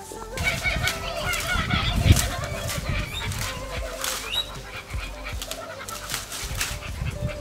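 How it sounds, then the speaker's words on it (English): Birds calling from a tree outside during green tea preparation, busy overlapping honking, cackling calls that sound like laughter, with thumps and rustling nearby, fairly loud and continuous without speech. "So we have some laughing birds in the tree."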